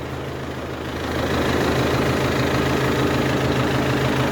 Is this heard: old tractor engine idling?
yes